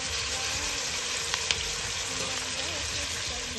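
Ginger garlic paste and onions sizzle steadily in a hot pan for hariyali pulao, a constant dense hiss with a couple of soft stirring clicks.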